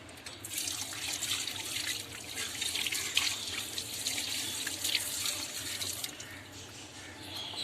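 Tap water running while fish is washed for an Odia fish curry, a soft continuous splashing stream with small irregular spatters, fairly quiet and steady throughout.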